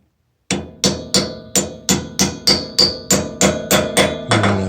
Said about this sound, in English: using a big enough hammer.